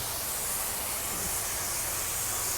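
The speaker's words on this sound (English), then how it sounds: "We're using an HVLP gun" An HVLP spray gun sprays paint during rust repair on a Toyota 4Runner, giving a continuous, close, airy hiss of steady intensity with no pauses.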